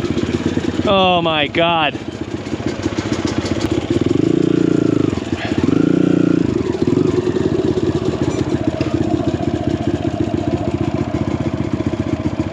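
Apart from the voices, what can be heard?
bump-started enduro motorcycle engine running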